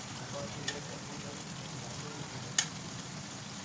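Potatoes and cauliflower sizzle and fry steadily in a pan, a continuous hiss with a couple of sharp clinks from stirring against the metal.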